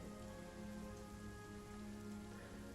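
Steady rain patters on a surface in an even, soft wash with no breaks and no talking, quiet and continuous throughout.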